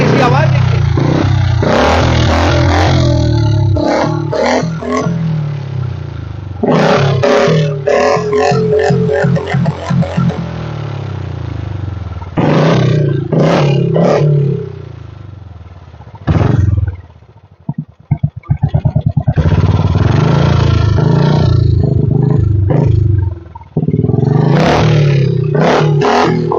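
A Royal Enfield Bullet motorcycle fitted with a modified silencer roars and revs loudly in bursts up close, with sputtering pauses between throttle blips and some voices talking around it.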